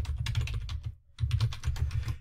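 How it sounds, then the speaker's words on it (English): Rapid keystrokes clatter on a computer keyboard while a note is typed, two close bursts of quick tapping separated by a short pause. "now I can create a note and start typing in whatever I want"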